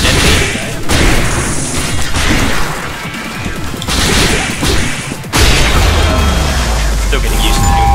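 Business card bombs detonating in the action game Assault Spy, with loud bursting booms and whooshing swishes breaking through constant combat noise, one heavy blast standing out near the end.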